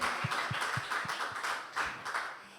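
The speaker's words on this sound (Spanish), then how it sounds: "Dele un fuerte aplauso a nuestro Señor," Church congregation applauding for the Lord, a fairly quiet, rhythmic clapping with steady beats about a quarter second apart over a broad wash of hands, with no talk.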